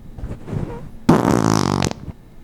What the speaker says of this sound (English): Armpit farts.